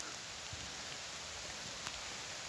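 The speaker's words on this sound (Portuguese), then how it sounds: "A chuva vem com força, viu," Heavy rain pours down outdoors on a farm plot, a steady dense hiss of drops on surfaces that stays constant throughout with no voices.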